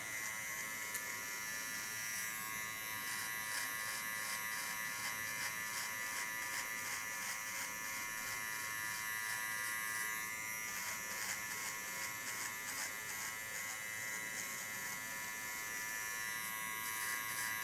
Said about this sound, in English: By holding the clipper upside down, you get much sharper lines.